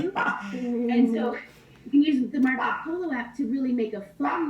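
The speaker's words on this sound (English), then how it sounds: "Sorry about my dog." A dog barks and whimpers intermittently behind a person's steady talk, the yips and short barks rising in a few bursts close to the microphone.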